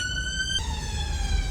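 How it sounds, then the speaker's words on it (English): A police siren wails loudly and steadily, its pitch dropping suddenly as it passes close by over low traffic rumble. "Sorry about the siren. Let me pause it while it goes past."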